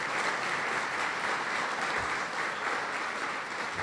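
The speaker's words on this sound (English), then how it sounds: "let's give her a big round of applause" A big round of applause from a Chicagoland Chamber audience, sustained dense clapping at an even, fairly loud level with no voices on top.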